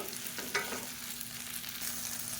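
Small-cut okra (ladies finger) sautéing in a pan for a masala, a soft steady sizzle with brief scraping stir sounds near the start, close but quiet.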